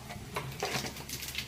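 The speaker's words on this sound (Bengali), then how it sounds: "এবার কালো জিরে দেবো" Nigella seeds (black cumin) crackle and sputter faintly in hot oil while being tempered for a vegetable curry with drumstick flowers, a quiet, uneven patter of small pops in a home kitchen.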